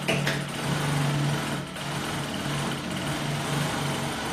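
A sewing machine runs steadily while sewing a second seam beneath an existing one on a fabric manicure kit pouch, giving a continuous close, loud buzzing whir with slight speed changes and no talk.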